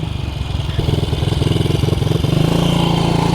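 Small motorbike engine with electronic ignition fires and runs, a loud, close, steady rapid putter that rises slightly in pitch and intensity as it settles into a running idle, with no talk over it.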